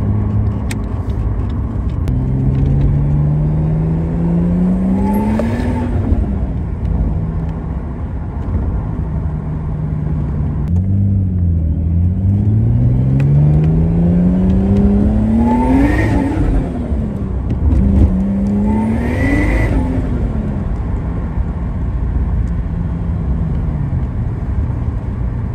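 A car with a manual gearbox and a new power steering pump accelerates through several gears, its engine note rising in pitch with each pull, then dropping at every shift, heard steadily from inside.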